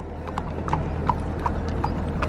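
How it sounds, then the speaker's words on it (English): Horses ridden through the desert give a steady clip-clop of hooves, evenly spaced beats close by over a low background rumble. "You got the desert with some camels and horses and whatnot being ridden out there."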